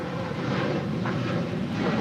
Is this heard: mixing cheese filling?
no